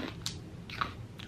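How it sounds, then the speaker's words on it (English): Crunchy honeycomb-style bar being bitten, a few sharp crisp cracks spaced apart with faint chewing crunches between them, close and quiet. "this is like a honeycomb like bar. It kind of looks like crunchy"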